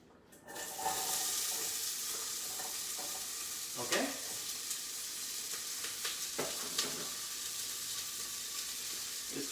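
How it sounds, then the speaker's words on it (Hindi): Onions dropped into hot oil in a home kitchen start sizzling and frying with a sudden surge, followed by steady crackle, occasional stirring scrapes and clinks throughout. "ऑयल हमारा गर्म हो गया है, इसके अंदर हम डालेंगे अब अपने प्याज"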